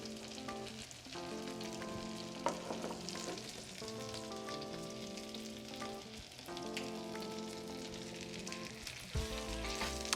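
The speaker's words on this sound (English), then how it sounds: "just a recap while I'm pan frying these" Spinach and shrimp stuffed salmon fries in butter in a pan, a steady crackling sizzle under background music, with occasional stir clatter and no talking.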